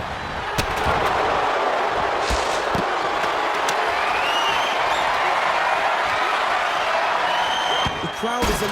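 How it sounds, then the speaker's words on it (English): Loud, steady roar of a simulated arena crowd cheering in the wrestling video game WWE 2K24 during a six-competitor Money in the Bank ladder match, a dense wash of noise with occasional sharp impacts and bursts punching through. "The crowd is electric"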